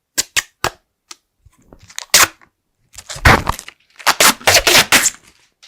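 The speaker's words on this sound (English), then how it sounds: "let's do the obligatory peel" Protective film peeled off a white plastic teleprompter cover: sharp crackling pops and tearing rasps in irregular bursts, very close and loud, with short pauses between pulls and no speech.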